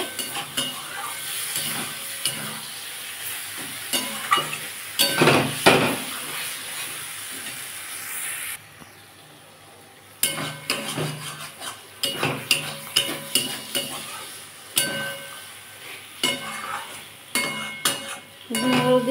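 Fried ridge gourd pieces are stirred through a thick sesame masala in a frying pan, with steady sizzling and repeated scraping strokes; a short quiet gap breaks the stirring midway before it resumes loudly.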